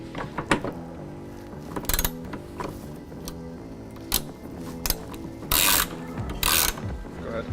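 A ratchet wrench tightens a bolt on a 47-gallon fuel tank strap under a 2019-22 Mercedes Sprinter van, giving sharp clicking bursts with pauses between strokes, close and clear, with no talk.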